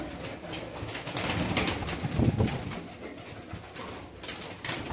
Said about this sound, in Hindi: ये देखो भाई खाकी कबूतर